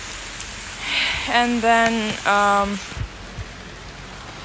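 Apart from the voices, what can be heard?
heavy rain falling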